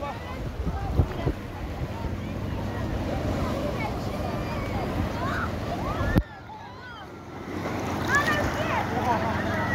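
Ocean waves crash on the beach at Kołobrzeg amid gusty wind noise, with a sudden splash about two-thirds through as a wave hits. Voices shout and talk over the surf.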